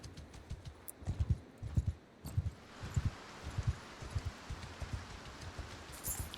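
Steady rain hisses softly in the open world of Mount and Blade II: Bannerlord, faint and even. Rhythmic hoof clops from a horse on the move sound under it, fairly close.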